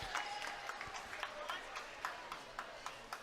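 Volleyball crowd at a Spring-Ford versus Pope John Paul II match cheering with scattered claps and a steady background murmur, faint and distant throughout.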